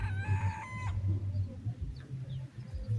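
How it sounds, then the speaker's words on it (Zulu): A rooster crows once at moderate distance, a long rising-and-falling call, followed by quiet rustling and faint background noise. "Inkukhu phela lekhalayo."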